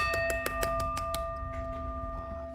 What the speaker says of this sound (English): thank you, Michael, for the gong.